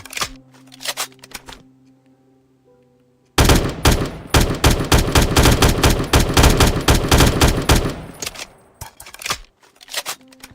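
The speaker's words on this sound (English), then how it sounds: "As you can see, this one has a 20-round mag. Full auto." Rapid full-auto bursts from a 20-round 5.56 rifle in a Minecraft Bedrock mod, a long, loud, evenly spaced string of shots preceded and followed by a few short reload or handling clicks.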